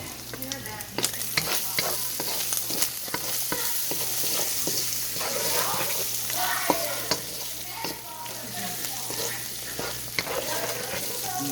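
Pork and egg fried rice stir-frying in a pan, a continuous close sizzle broken by frequent sharp clicks and scrapes of the utensil, with no voices over it.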